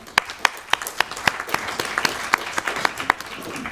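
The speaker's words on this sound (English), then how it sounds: "So I'd like to ask for a round of applause for the young people" Sparse audience applause at a United Nations event on green and inclusive economies, a handful of distinct claps ringing out at a quick, uneven rhythm, fairly faint in a large room.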